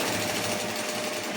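Sewing machine stitching fabric in a tailor's shop during urgent cutting and sewing work, a steady dense mechanical rattle running continuously and fairly loud throughout the short stretch.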